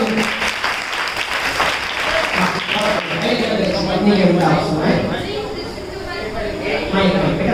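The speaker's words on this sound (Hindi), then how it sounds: "जोर से ताली बजाओ" Steady applause from an audience at a children's poetry gathering fills the scene, dense clapping that swells slightly midway and continues without pause.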